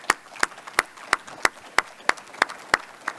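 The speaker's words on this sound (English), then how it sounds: "big round of applause for our panelists" Audience clapping for the panelists at the close of a digital cardiac rehab session, sparse and evenly spaced claps, about ten distinct sharp hits, like a small group or one prominent clapper near the microphone.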